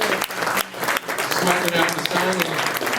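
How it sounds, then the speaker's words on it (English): Applause for an honoree at a Grandsons of Italy Man of the Year event, crowd clapping mixed with voices talking over it throughout. "give a round of applause for Paul Fontana"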